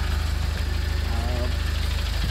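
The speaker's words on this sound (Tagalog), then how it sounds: "pinandar natin yung makina" A car's engine idles after starting during an electric parking brake repair, a steady low rhythmic chug with mechanical hum, close and continuous throughout.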